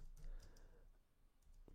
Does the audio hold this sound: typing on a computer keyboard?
yes